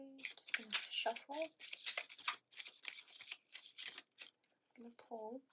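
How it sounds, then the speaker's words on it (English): Tarot cards are shuffled in quick, crisp riffling bursts, close up, while someone speaks softly in between. "Okay, just gonna shuffle."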